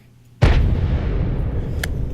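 A single sudden explosion sound effect bursts in loud and close, then rolls on as a long rumbling tail that keeps sounding without fading.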